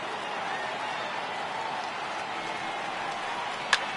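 A baseball stadium crowd of over 39,000 roars after a home run, a steady distant wash of cheering and applause with one sharp crack near the end.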